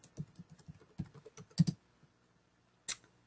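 Fingers tap out a username and password on a computer keyboard in a quick run of close, quiet keystrokes, a short pause, then a final key press.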